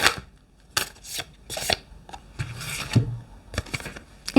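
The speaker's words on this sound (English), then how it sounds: "I will shuffle and then I'll pick" A deck of tarot cards is shuffled by hand in several quick, crisp riffling bursts with short pauses between them, close up and alone.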